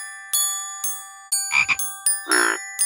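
Several musical frog croaks from a children's game sound one after another, ringing tones mixed with two fuller, raspy croaks, loud and close.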